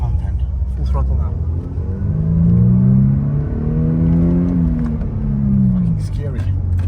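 A Mercedes W202 with a 2-litre engine revved at full throttle, a loud close roar that rises, holds and falls twice.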